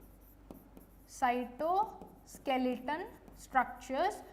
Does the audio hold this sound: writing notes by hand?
yes